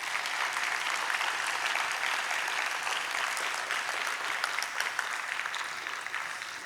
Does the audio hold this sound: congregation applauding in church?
yes